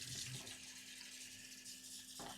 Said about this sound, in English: I'm going to rinse it so it's not too salty.